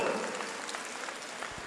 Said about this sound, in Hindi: एक बार उनको जोरदार ताली बजा करके धन्यवाद दो।